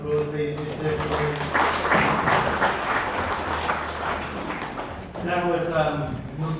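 Mourners at a memorial service applaud in a dense burst of clapping, with a voice speaking over the start and end.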